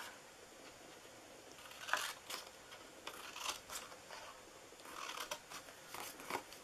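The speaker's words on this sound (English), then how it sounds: "so now we need to cut this" Scissors snip through a paper treat box template, a series of quiet, crisp cutting clicks in irregular bursts, close by with no talking.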